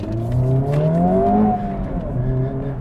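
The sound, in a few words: Honda Civic Type R accelerating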